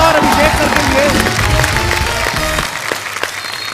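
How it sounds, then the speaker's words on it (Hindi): Studio audience applause from a comedy talk show fills the space with dense, steady clapping that thins out near the end, with a voice talking over it. "जोरदार तालियां एक बार अजय सर और अभिषेक सर के लिए"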